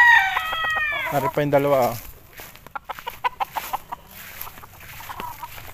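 Gamecock stags and roosters at a farm crow loudly and clearly at the start, then cluck and call in shorter bursts, with someone speaking over the birds.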